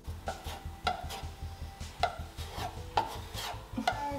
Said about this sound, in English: grabbing my Bondo, I'm gonna mix that up